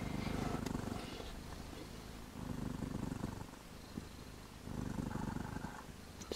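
A mother cat purrs steadily to her sleeping kittens, a soft close rumble that swells and eases in slow breathing cycles, quiet and calm.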